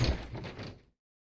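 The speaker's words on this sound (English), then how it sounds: "I swung open the door of the camp leader's cabin and rushed inside" In the video game Everlasting Summer, a cabin door swings open with a single short, muffled thump and rustle that fades out within a second.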